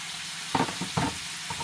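Homemade Five Guys-style burger patties sizzle in a frying pan, a steady broadband hiss broken by a few brief louder scrapes or pops, close and moderately loud with no talking.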